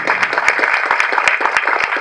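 A dense burst of applause from an audience at a film audio launch event, steady and loud with distinct individual claps, no talking.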